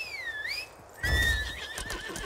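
A horse gives a loud, wavering whinny, clear and close, alone without any talking.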